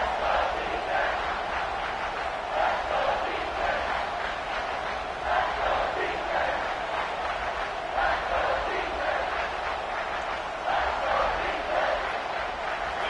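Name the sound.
football stadium crowd roaring on third down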